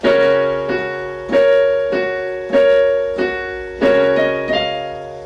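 A piano plays a short melodic phrase of about ten notes with quick grace notes, clear and close, each attack ringing into the next.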